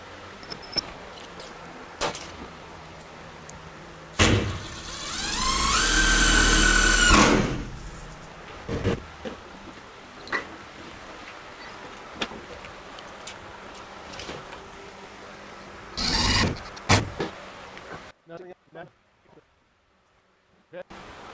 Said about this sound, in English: those self-tapping screws, and just screw those in.